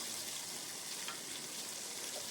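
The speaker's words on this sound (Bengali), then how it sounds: "আর কালো জিরে আর দুটো কাঁচা লঙ্কা ফোড়ন দিয়ে দিলাম" Black cumin and two green chillies hit hot mustard oil and sizzle in a close, continuous, bright hiss with no pauses or talking.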